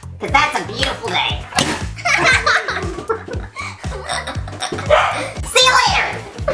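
A dog barks in short repeated bursts close by, mixed in with someone talking excitedly and bouts of laughter.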